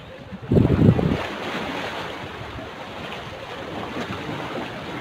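Sea waves wash against the rock-lined shore of Marina beach in Semarang, Central Java, a loud surge early on settling into a continuous windy roar of surf, near and unbroken, with no one speaking.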